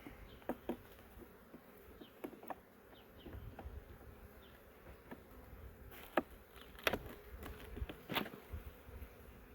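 Honeybees buzz softly inside an open hive during an inspection. A faint, steady hum runs under scattered close wingbeats and light clicks and taps.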